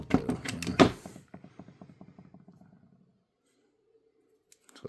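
A socket wrench with a 10 mm socket and adapter being worked in and out, giving a rapid series of small mechanical ratcheting clicks that slow and fade, preceded by a brief louder clatter, close by.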